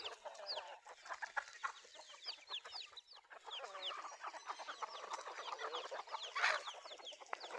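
Several hens and chicks clucking and peeping continuously at moderate distance at a temple in Chae Hom, Lampang, Thailand, with the chicks' high chirps mixed among the hens' calls.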